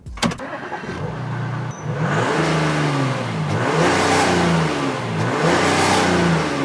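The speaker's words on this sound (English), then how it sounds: "start the big massive V6 engine" An Audi A5 with a V6 diesel engine cranks and fires up, followed by a few rising revs that settle back between pulls, close and fairly loud with no talking.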